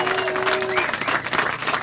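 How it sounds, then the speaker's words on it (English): Crowd applause and clapping for a high school football championship team at a parade, a dense steady wash of many hands close by, mixed with some voices. "So, yeah, clap it up for them right there."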